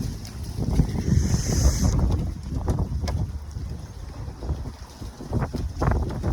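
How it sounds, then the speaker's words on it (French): Strong wind buffets and roars steadily against the microphone, with a low rumbling rush throughout and occasional gusty surges. "D'où il sort ce vent de merde?"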